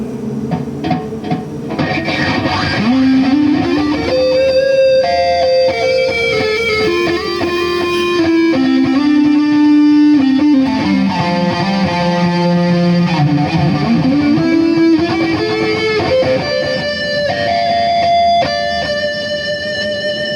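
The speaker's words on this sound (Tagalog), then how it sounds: "nilagyan ko din po ng isa pang delay para sa control pedal" A distorted metalcore guitar played through a Boss GT-1 patch with added delay, heavy sustained riffs and bending lead notes ringing loudly with echo tails, no voices.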